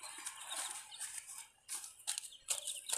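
Chicks being raised at home give soft, high clucks and peeps, faint and scattered, several short calls bunching together toward the end.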